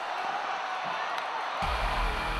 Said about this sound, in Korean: 이어지는 답답한 경기 속에 관객들의 탄성이 터져 나오는데